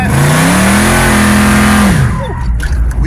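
A pump-gas big block street car engine revs hard and steadily close by while sliding, its pitch climbing then holding before dropping off sharply, followed by tire and road noise.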